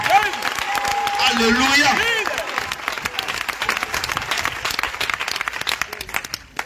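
A church congregation clapping softly, a gentle patter of many hands building under a sung or spoken voice, then continuing as light, scattered claps with voices mixed in.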